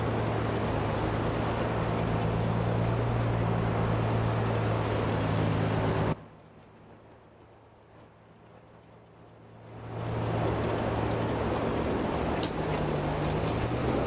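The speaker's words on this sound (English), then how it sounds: "This tractor seems to struggle a little bit with this cultivator." Tractor in Farming Simulator pulling a cultivator across a field, a steady low engine drone with a rougher strained texture, continuous and loud apart from a few seconds where the sound drops almost silent before the engine returns.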